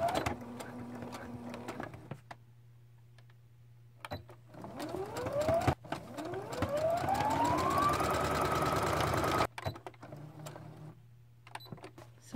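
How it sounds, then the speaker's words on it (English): A sewing machine stitches bias tape around a cuff edge in bursts of rapid mechanical whirring, some runs short and one long sustained run with a rising motor pitch, close and clear. "So I'm going to start stitching this all around this cuff edge"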